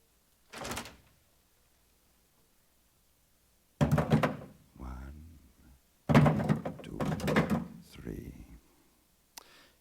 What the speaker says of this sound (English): Kendall, we'll open the door.